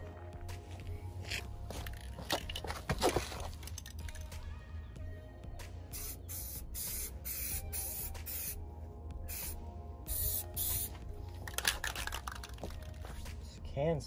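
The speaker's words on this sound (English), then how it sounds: "This can's spraying like crap." A spray paint can hisses out white paint onto a Nissan 300ZX, laying down a base coat in repeated bursts of varying length, close by, with brief pauses between passes.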